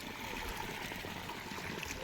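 Irrigation water released into a newly planted sugarcane field runs in a steady, close trickling and gurgling flow with no break, and no voices are heard over it.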